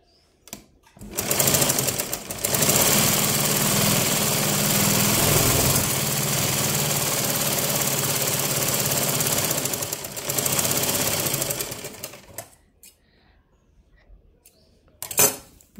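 Sewing machine stitching a blouse, running in a steady loud whir for about ten seconds with a brief pause midway, then stopping, followed by quiet and a short final burst.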